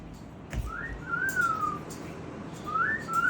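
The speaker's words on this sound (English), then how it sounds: "I heard a bird" A Goffin's cockatoo whistles two rising-and-falling tones close by, with a short pause between them, over a low room hum and a faint clatter near the start.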